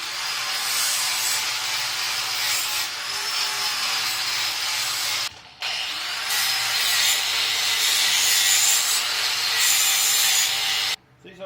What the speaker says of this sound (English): These old flat disc wheels, they really do a good job of cleaning metal and polishing it